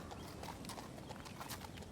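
Horses walk with steady clip-clopping hooves through forest brush thick with fallen wood and rotting stumps, a faint, rhythmic patter of hoofbeats amid rustling undergrowth.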